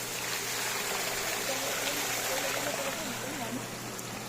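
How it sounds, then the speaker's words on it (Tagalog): Creek water runs continuously through a siphon hose, a steady, even rushing trickle that holds at the same level throughout, with faint voices now and then in the background. "Tuloy-tuloy ang tubig."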